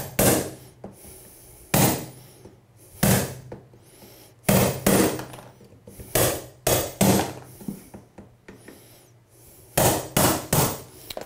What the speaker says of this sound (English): You can just take any hammer and chisel, and if you need to chip it out,